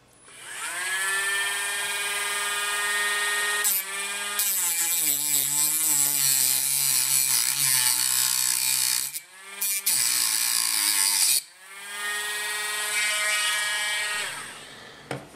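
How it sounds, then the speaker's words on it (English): A Dremel rotary tool cuts through model railway flex track rail with a loud, close, high-pitched whine whose pitch dips and rises as the cutting disc bites, pausing briefly twice before spinning back up. "I'm going to use my Dremel tool here. So I'm going to do a practice cut here"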